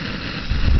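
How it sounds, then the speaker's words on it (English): A Jetboil camping stove burner heating water roars steadily and close, its broadband rush swelling louder partway through. "how to boil it using a jet boil. And now it's going."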